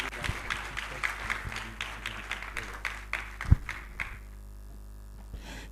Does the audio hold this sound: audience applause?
yes